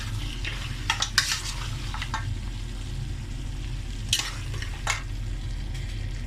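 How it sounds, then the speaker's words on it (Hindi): Mutton karahi with green chili paste and ginger frying in a pan, a continuous sizzle under loud, irregular scrapes and clatters of a spoon stirring against the metal. "हम इसको फ्राई कर रहे हैं।"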